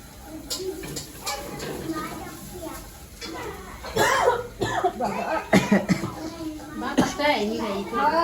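A few sharp coughs break through lively background chatter, with children's voices and household noise nearby.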